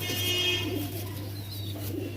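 Pigeons cooing faintly inside a pigeon farm in Nabadwip, masked by a steady low electrical hum and constant background noise.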